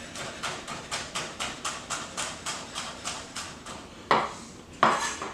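A chef's knife on a cutting board mincing garlic: a steady run of quick, even chops, then two heavier, sharper smacks as the blade is pressed down to smash the cloves.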